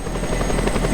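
A helicopter in the video game Just Cause 2 gives off a close, loud rotor chop with steady rapid beats over a low engine drone.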